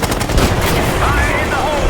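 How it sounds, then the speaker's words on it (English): Automatic gunfire in the Call of Duty Black Ops 6 video game, a loud, dense barrage of rapid shots, with game voices partly audible over the din. "Damn, we're taking fire!"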